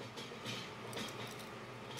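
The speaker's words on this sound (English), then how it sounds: "It's just the water boiling ready for my linguine." A pot of water for linguine at a rolling boil, a continuous low rumbling bubble with faint hissing, quiet and steady.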